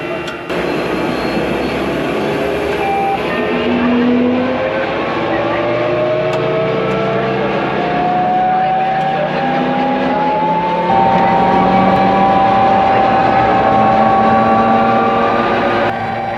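Constant loud engine drone from inside a helicopter cabin in flight, heard from the front seat, a steady roar with a slowly rising whine layered over it throughout.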